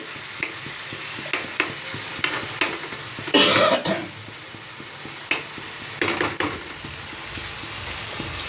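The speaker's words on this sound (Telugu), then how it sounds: "టమాటాలు అయితే వేగుతున్నాయండి" Tomatoes fry in a pan for a tomato and coriander chutney, a steady close sizzle broken by scraping stirs and utensil clinks.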